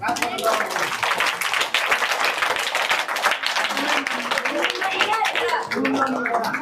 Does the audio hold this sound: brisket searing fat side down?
no